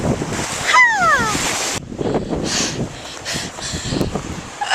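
Ocean surf washing onto a sandy beach in Australia: a loud, continuous rush of breaking water mixed with strong wind buffeting the microphone, with a brief whistling tone early on.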